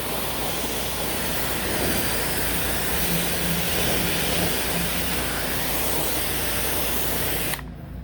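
Steady water spray hosing dirt off the top of exterior house trim, a loud continuous hiss running nearly eight seconds before stopping abruptly.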